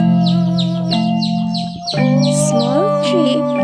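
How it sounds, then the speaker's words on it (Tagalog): Chicks cheep in rapid high repeated chirps beside a mother hen, close and clear, with sustained tonal sounds running underneath. "Good morning, Mama Hen and Chip, Chip, Chip, Chips."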